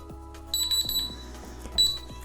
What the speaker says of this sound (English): Timer for 10 minutes.